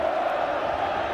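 A large crowd at a 1976 Brighton v Crystal Palace football match makes a steady, distant wash of murmuring and calls across the stadium just before kick-off.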